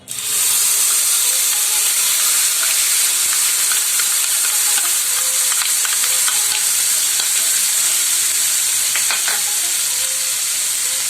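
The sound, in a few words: onion paste frying in oil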